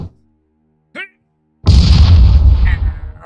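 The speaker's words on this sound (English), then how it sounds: "I'm gonna get a grenade thrown at me." A grenade goes off in a video game, a sudden loud deep blast after a near-silent moment and a short voiced sound, then a rumbling tail fading over about a second and a half.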